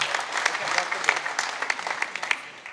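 An audience claps steadily at a fair's opening ceremony, a dense patter of many hands at moderate distance, with no break in the applause.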